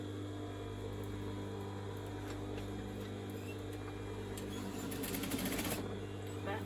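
Sewing machine back tacking fabric for a pair of trousers, a steady low mechanical hum with a faint stitching rattle that grows a little busier near the end.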